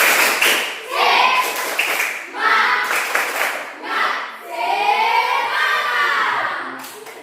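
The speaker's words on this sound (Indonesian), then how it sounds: "Tepuk semangat." Rhythmic group clapping by a class of children, short bursts of claps repeated several times with cheerful shouting and voices mixed in, fairly loud and close.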